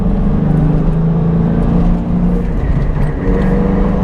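A modded 2001 Ford Mustang Bullitt V8 heard from inside the car while heel-and-toe downshifting on a winding road, a loud, steady engine drone with a slight dip and rise in revs.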